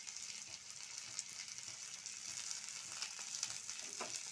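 Onion, tomato, whole cardamom, cinnamon and coriander leaves frying together in a pan, a soft, steady sizzle with faint stirring crackles, fairly quiet throughout.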